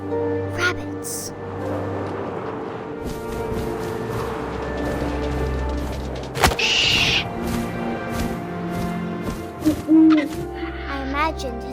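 Owl hooting in the video game What Remains of Edith Finch, a few soft hoots over a steady bed of wind and game ambience, with a louder call near the end.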